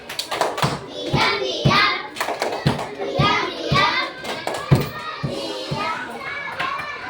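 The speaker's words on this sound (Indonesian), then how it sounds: "Tepuk diam" An Indonesian fourth-grade class performs the 'tepuk diam' clapping routine: crisp, rhythmic group hand claps in a steady pattern, close and loud, mixed with children's voices chanting along.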